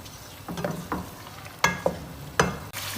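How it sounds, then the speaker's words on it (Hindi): Chicken pieces stir-fried over a high flame for haleem, with a steady sizzle broken by several sharp scraping strokes of a spoon against the pan, close and clear with no talking. "हाई फ्लेम पर इसकी हमने अच्छी तरह से चिकन की भुनाई करनी है"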